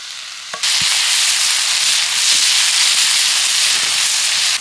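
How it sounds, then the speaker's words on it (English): A quesadilla with mild Mexicana cheese fries in a pan at an outdoor bushcraft camp, stirred with a rough stick spatula; after a brief quiet start, a loud, steady sizzle holds to the end. "I've just made a really primitive spatula out of this stick"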